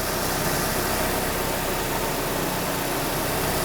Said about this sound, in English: even listening from down here, this engine sounds awesome